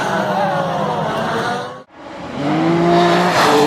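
Pro Mazda race cars in a huge wreck, engines roaring and tires squealing at high speed, cutting out briefly, then revving and screeching again close by, with no talk.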